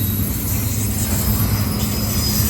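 A Norfolk Southern freight train rolls past on the Charlotte District, a loud steady rumble of rail cars with faint wheel squeal and clatter, no talking.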